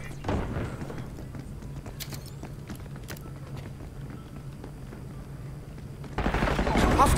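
Gunfire in a Call of Duty Black Ops 6 Search and Destroy match: a few sharp distant shots scattered over a steady background hum, with a loud burst of noise near the end.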